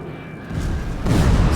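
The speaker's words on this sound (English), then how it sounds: "Secondary explosions as she goes down, boilers exploding as water rushes down the funnels into the engine rooms, causing massive pressure explosions" A sinking cruiser in the submarine game Silent Hunter 4 gives off deep secondary and boiler explosions: a low, rolling rumble that swells into a heavier, sustained boom partway through.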